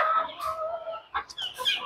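Chickens clucking nearby in a yard after a night of heavy rain and flooding, a run of short, clear clucks and calls, moderately loud with brief pauses.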